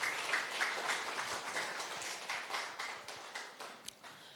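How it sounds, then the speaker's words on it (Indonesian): A crowd applauds at an integrated farming training event in Indonesia: steady, dense clapping from many hands that carries on evenly throughout, with scattered sharper claps standing out and no one speaking over it. "Tepuk tangan."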